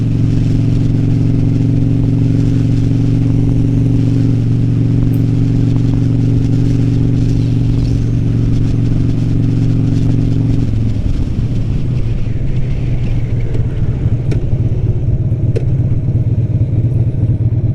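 A Harley-Davidson Sportster with loud aftermarket exhaust pipes rumbles steadily while riding, its deep engine note holding before easing off partway and settling to a rougher, lower throb heard up close.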